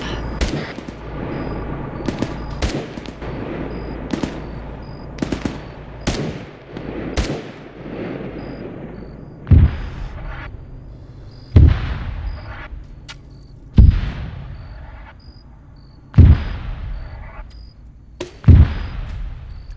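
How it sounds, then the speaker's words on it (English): Friendly mortar rounds landing in a combat video game: a string of heavy booming blasts, about a dozen over twenty seconds, loud and widely spaced with lingering rumble after each impact, rapid gunfire mixed in during the first half. "Are those friendly mortars? Yeah. Yes, they are. Right on target."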